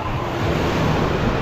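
Ocean waves rolling onto a beach during the northeast monsoon season, a continuous broad wash of surf close by, roughened by wind buffeting the microphone.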